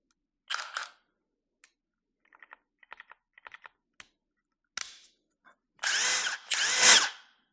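A power tool with a socket runs off lug nuts on an overland vehicle: brief whirring bursts, faint clicks and ratcheting in between, then two longer, louder whirrs at the end. No one talks.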